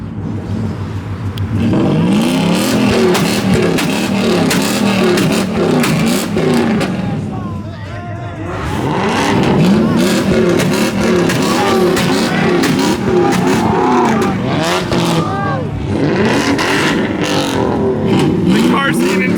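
Modified G-body car revving hard during a burnout at a car show, a loud roaring engine with rising and falling revs amid crowd cheering and shouting.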